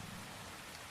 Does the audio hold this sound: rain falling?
yes